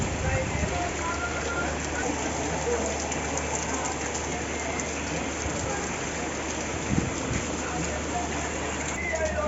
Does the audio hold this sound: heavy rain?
yes